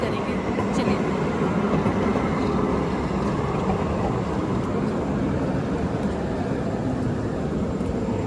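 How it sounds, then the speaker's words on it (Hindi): A commuter train arrives in downtown Portland with a continuous low rumble and rolling noise, fairly loud and steady throughout, with a voice briefly speaking over it. "तो हमारी ट्रेन आ गई है और हम ये ट्रेन बोर्ड करेंगे।"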